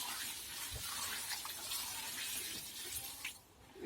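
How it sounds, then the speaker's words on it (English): Rainwater poured from a bucket onto a chicken-manure hotbed inside a greenhouse, a steady broadband splashing and gushing that runs for several seconds close by, then briefly thins out near the end. "So I'm just going to give this a water with that."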